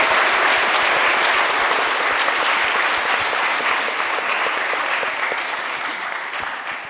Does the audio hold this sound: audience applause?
yes